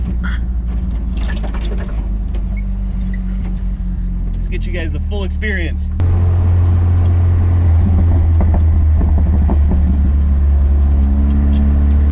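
Turbocharged Ford Ranger engine running and revving in an abandoned truck being revived, a loud low rumble that steps up in level halfway through and holds steady, heard from inside the cab with someone talking over it early on.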